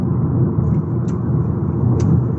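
Steady low road rumble of a car cruising at about 50 mph on an A-road near Ipswich, continuous and even, with faint high ticks now and then and no talking.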